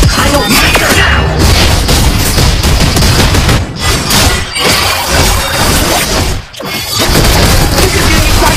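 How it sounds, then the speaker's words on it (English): Chaotic battle noise in Mobile Legends as a turret is destroyed: loud booms, crashes and rapid impacts layered densely, with a couple of short dips in the din. "Your team destroyed the turret!"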